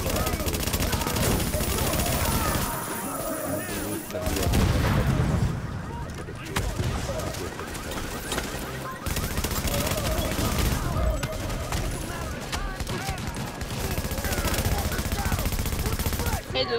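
Gunfire from the video game Tom Clancy's The Division rattles in long automatic bursts and single shots, loud and continuous, with explosions mixed in.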